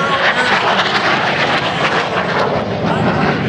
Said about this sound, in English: another high-speed pass, this time from right to left with the Harrier